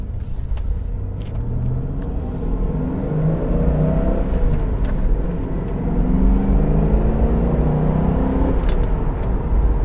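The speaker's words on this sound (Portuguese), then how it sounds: "começando aqui com o Ford Mustang" A 1990s Ford Mustang GT with a manual gearbox driving, its engine rumbling steadily and rising in pitch through revs, heard from inside at moderate loudness without talk.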